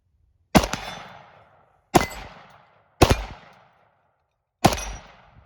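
Four separate rifle shots from a Cetme Model L in 5.56 NATO, each a sharp, loud crack followed by a decaying ring from steel targets, spaced irregularly about one to one and a half seconds apart.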